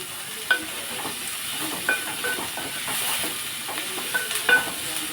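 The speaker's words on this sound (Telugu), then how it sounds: "ఇదిగోండి ఉల్లిపాయ వేగుతుంది" Onion frying in a pan gives a steady soft sizzle and hiss, with occasional stirring clicks and light pops breaking through at a moderate, close level.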